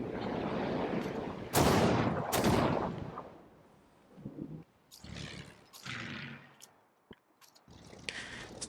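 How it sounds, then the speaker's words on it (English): Artillery bombards an army commander in Civilization VII, with two loud, sharp blasts early on followed by smaller scattered thuds and impacts that fade toward the end. "let's just bombard that army commander"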